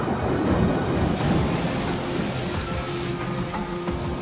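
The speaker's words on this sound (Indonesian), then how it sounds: "Badai ini lumayan kencang, bos." Steady heavy rain pours down while low thunder rumbles through, a dense, continuous storm roar with no voices.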